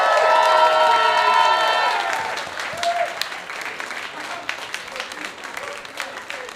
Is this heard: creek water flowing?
no